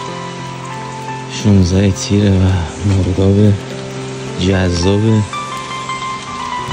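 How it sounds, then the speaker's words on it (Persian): Steady summer rain falls over a misty mountain landscape at dawn, a constant close wash of drops heard beneath occasional speech from a person nearby. "بارون تابستانی. اونم چه بارونی"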